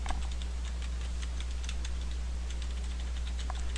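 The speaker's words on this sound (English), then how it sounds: "I'm going to type in the email address." Someone types an email address on a computer keyboard, with quiet, irregular key clicks over a steady low electrical hum and no talking.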